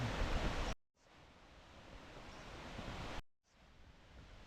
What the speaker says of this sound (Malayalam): അതായിരിക്കും വെള്ളച്ചാട്ടം